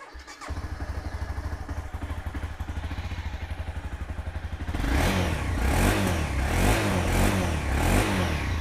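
A used motorcycle engine with about 81,000 km on it, idling in a steady rhythmic chug that swells into louder revving about halfway through, recorded up close near a garage.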